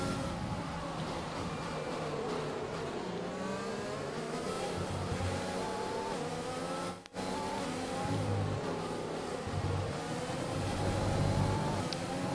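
An F1 2020 video game race car's engine roars at high revs as it boosts down the back straight of the Abu Dhabi circuit, a loud sustained whine rising through the gears, with a brief dip mid-run and no speech.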